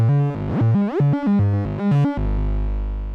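An Arturia MiniBrute 2S analog synthesizer plays a sequenced bass pattern, each step shaped by per-step pressure opening the filter cutoff, giving a bright, buzzy stepped melody of about a dozen notes that ends on a long held tone.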